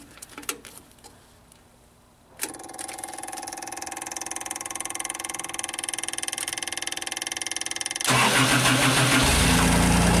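A JLG scissor lift engine with its crank sensor unplugged cranks after a quiet pause and catches into a rough, pulsing idle. It ends in a loud burst of harsh broadband noise, all close to the listener.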